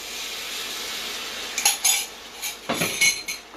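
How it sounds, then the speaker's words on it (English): Chow mein being stirred in a hot pan, with a few clinking, scraping strokes of a utensil against the metal coming in bursts after a quiet, steady stretch of cooking noise. "Give it a stir around."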